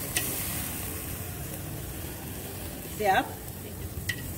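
Barbecue chicken, hibachi style, sizzles as it cooks over an open fire, a steady close crackling hiss throughout, with a brief spoken phrase partway through.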